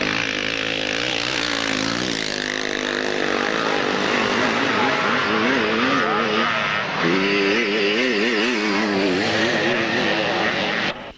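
Classic scramble motorcycles racing at Hawkstone, including a Cotton 247: several two-stroke engines buzz and wail together, pitch rising and falling as riders accelerate, loud and continuous with a commentator talking over them.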